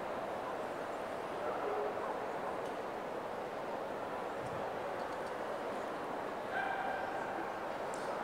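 Dog barks rise briefly from the steady crowd murmur of a large indoor arena during an obedience competition at Crufts 2016, with faint voices blending into the hall noise.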